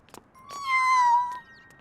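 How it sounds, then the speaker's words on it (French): A kitten, abandoned near a street crossing in a children's cartoon, gives one clear, drawn-out meow, close and fairly loud, with faint clicks before and after. "Oh, un chaton!"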